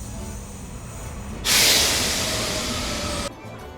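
A metro train in a Rome station rumbles steadily, then a loud, close hiss of released air bursts in and holds for nearly two seconds before cutting off. No one speaks.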